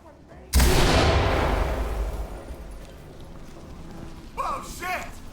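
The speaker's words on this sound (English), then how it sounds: "Toss a flashbang." A flashbang grenade detonates in the tactical shooter Ready or Not, one sudden loud bang that rings out and slowly decays, followed by shouting voices near the end.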